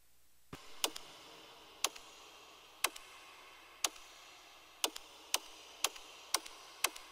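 Dry ticking percussion from a trailer music cue, played without Haas effect widening, clicks in a steady pattern that grows busier with doubled ticks toward the end, crisp and alone over a faint hiss.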